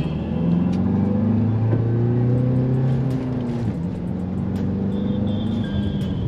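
A 2023 Tata Safari SUV engine pulls away from standstill, its note climbing steadily for a few seconds before a brief dip as it shifts, then rising again, close and loud under steady road and wind noise.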